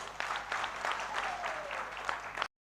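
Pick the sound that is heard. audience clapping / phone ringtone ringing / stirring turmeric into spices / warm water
audience clapping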